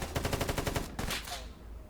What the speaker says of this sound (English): You can hear it and see it as well.